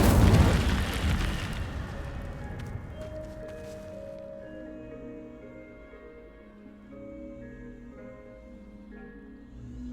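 A loud whooshing fire burst from the Incendio spell in Hogwarts Legacy erupts at the start, then fades into a lingering low crackle beneath sustained game music tones.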